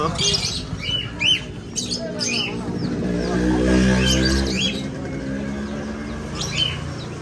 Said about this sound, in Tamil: புறா இருக்குல்ல பேர் தெரியுமாடா